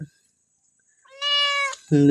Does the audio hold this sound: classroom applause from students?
no